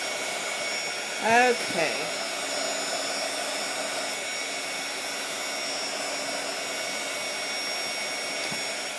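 A hair dryer runs steadily close by, drying small burlap flowers, a constant whooshing blower tone throughout, with a brief spoken word near the start.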